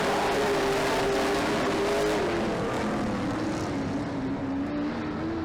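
Grand National heat race cars on an oval track roar past side by side, a loud sustained engine drone whose pitch slides downward as they pass, staying close and dominant throughout.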